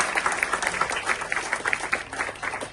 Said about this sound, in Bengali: সবাই একটা জুড়ে হাততালি দেন শিপনের জন্য